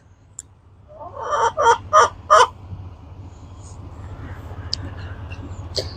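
Several loud, close squawking calls from ranch chickens come in a quick burst of about five, then fade to quieter scattered clucks and small noises, with no talking.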